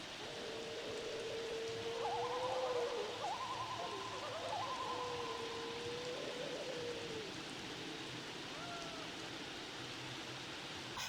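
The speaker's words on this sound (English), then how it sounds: "Whether it's crickets chirping, owls hooting spookily in the nighttime, haunting organ or pipe music seeming to play out of nowhere" Night ambience in a video game: a steady wash of rain-like noise with owls hooting in repeated low calls that come and go over the bed of sound, fairly faint and distant.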